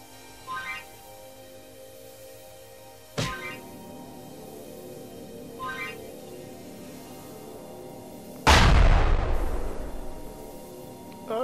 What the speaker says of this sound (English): Gonna explode in a minute.